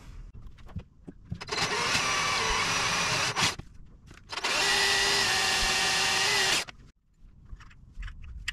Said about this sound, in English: I'll come back and drill and tap a thread for a couple of